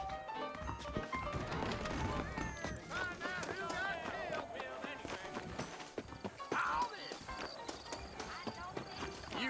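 Horse hooves clip-clop in the video game Red Dead Redemption 2 as riders leave town, a steady rhythmic patter running under continuous talk and music throughout.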